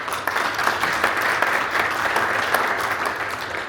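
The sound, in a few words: audience applause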